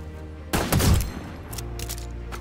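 A sniper rifle headshot in Fortnite, a sharp loud crack followed by a quick booming burst and echoing tail, then a few fainter distant pops in the background.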